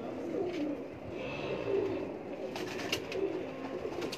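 Several pigeons perched on rooftops coo in soft, repeated low rolls, close by and steady over a light background hum, with no talking.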